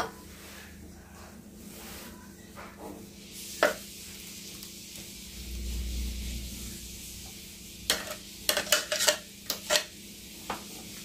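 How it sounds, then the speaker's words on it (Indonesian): Utensil scraping and clinking in a bowl as mashed tofu is mixed with intestines and seasoning, with faint scrapes early and a cluster of sharper knocks and clinks in the second half, no talking. "Campurkan usus ke dalam tahu"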